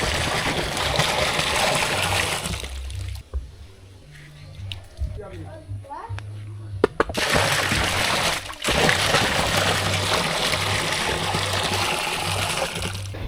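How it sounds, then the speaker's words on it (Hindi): Water running and splashing into a container being filled to boil paddy at a village home, a steady broadband rush with a brief pause, loud and close, with a low hum under it. "ये ना धान उबालने के लिए पानी जमा करा जा रहा है"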